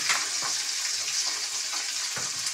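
Eggs sizzle steadily in hot oil in a frying pan, a dense, even crackle that holds close and loud throughout, with a few soft clinks, and no voices.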